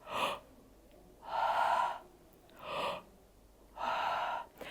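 Four slow, breathy exhalations and inhalations from a voice breathing exercise, steamy airy pushes of breath alternating with quiet pauses, close to the microphone.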